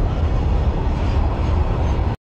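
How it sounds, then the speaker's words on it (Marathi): A long passenger train, about a kilometre of carriages, rolls past near forest in West Bengal with a loud, steady rumbling roar that fills the clip before cutting off abruptly at the end. "जेवढी लांब दिसते तेवढी लांब रेल्वे तेव्हा"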